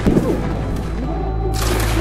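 A volley of gunfire fired on a shouted command, a broad booming burst near the start followed by a steady rumbling wash and a sharper crackle near the end, with no clear separate shots.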